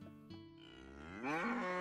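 A cow in the video game Snufkin lets out one long, drawn-out moo that swells and rises in pitch toward the end. It is close and clear, with no talking over it.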